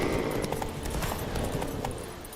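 Hooves of Geralt's horse Roach pound in a quick, steady clip-clop gallop through The Witcher 3, close and clear over low ambient wind and game noise.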